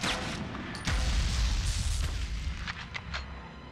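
A grenade explosion in the Medal of Honor video game, a deep booming blast with a low rumbling tail that swells and slowly fades, followed by a few fainter distant cracks.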